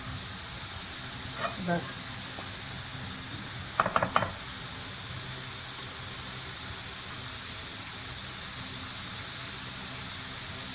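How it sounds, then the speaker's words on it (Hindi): Food frying lightly in a pan for fried rice, a steady soft sizzle and hiss running throughout, with a couple of brief stirring clatters and a short spoken word. "बस थोड़ा थोड़ा सा हल्का सा बस इसको फ्राई करना है"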